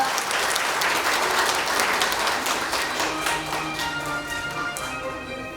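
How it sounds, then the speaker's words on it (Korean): A crowd applauds at an 80th Liberation Day ceremony in Ulsan, Korea: loud, continuous clapping from many hands that gradually thins and softens toward the end. "모두 큰 박수 부탁드립니다"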